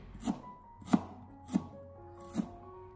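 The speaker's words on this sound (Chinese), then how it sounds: "再准备1小块的生姜，把它清洗干净以后，改刀切成薄片" Fresh ginger is sliced thin with a kitchen knife on a cutting board: four crisp, separate chops at an uneven slow rhythm, close and quiet, with no talking.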